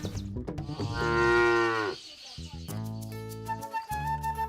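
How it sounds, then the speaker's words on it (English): A dairy cow on a farm lets out a loud, drawn-out moo close by, followed by a shorter lowing call, with other farm sounds and brief voices around it. "Rosemary and Evans want to increase their milk production by getting a new cow."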